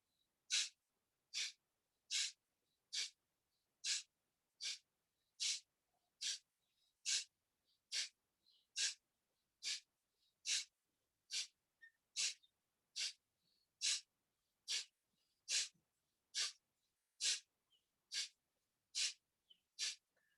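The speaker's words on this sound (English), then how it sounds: "And then if you want to bring into this Kapalbhati, you can do that" Kapalbhati yoga breathing, with about twenty forceful, sharp nasal out-breaths at an even rhythm of roughly one per second, each a crisp close puff separated by near silence.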